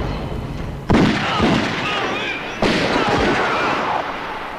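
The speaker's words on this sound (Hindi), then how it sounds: "तुमने हम पर गोलियां चलाई," Two sharp gunshots ring out in a 1996 Bollywood film scene, each a sudden loud crack followed by a long reverberating tail, spaced about two seconds apart.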